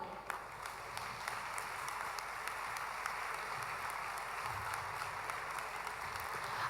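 Audience applause after a talk on ballroom dancing at the Catalan championships, a steady wash of many hands clapping throughout, moderately loud and even in level.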